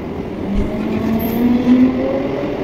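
A train rolls in at Durgapur railway station with a steady low rumble and a droning hum that swells slightly midway, heard up close without any talk.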